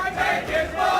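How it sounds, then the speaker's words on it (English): A crowd at a Windjammers tournament chanting in unison, a loud sustained mass of voices rising and falling in rhythmic swells, close and filling the space. "They're chanting, "Take his money" in the crowd."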